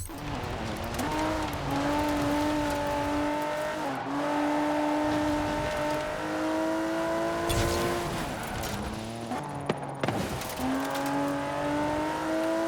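A Land Rover Velar in Forza Horizon 4 driving hard, its engine revving up through gears with dips at shifts, tire squeal and a brief loss of control after clipping a curb, close and loud, no talk.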